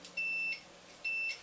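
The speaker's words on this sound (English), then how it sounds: "when there's a direct connection between the two probes, we get a beep" A multimeter on continuity test gives two steady electronic beeps, each about a third of a second long with a short gap between, as the probes touch the ends of the wires for a kit build. The beeps are clear and close.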